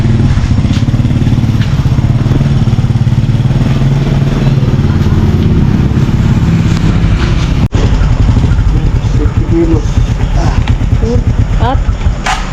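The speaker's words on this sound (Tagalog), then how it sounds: "May lumalagatok sa motor." A motorcycle with a clattering, knocking fault runs at a loud, steady engine drone close by, with a rattling texture throughout and people talking over it.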